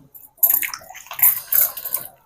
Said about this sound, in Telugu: ఇదంతా శుభ్రంగా చేతులతో కడగాలి.